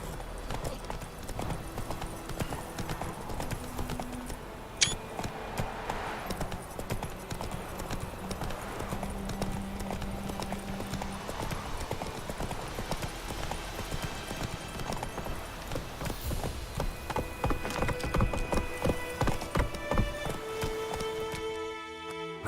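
Roach, a horse in The Witcher 3, gallops with steady rapid hoof clip-clop throughout, joined by game music tones and brief voices.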